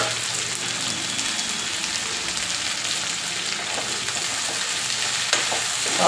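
Kakoda, or spiny gourd, roasts in a pan with a continuous, even frying sizzle and crackle, with light stirring noises up close and no one talking.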